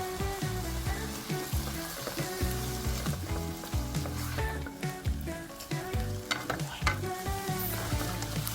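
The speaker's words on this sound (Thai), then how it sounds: "เร่งไฟให้ร้อนได้เลยนะครับ แล้วก็ผัดให้เขาแห้งๆนะครับ" Minced beef with pickled bamboo shoots, chili paste and torn kaffir lime leaves stir-fried over high heat in a pan, a loud continuous sizzle with busy scraping and clattering spatula strokes throughout, no voices.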